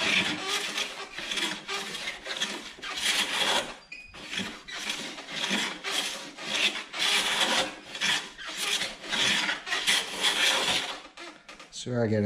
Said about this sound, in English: So we are getting some nice, fairly thin shavings.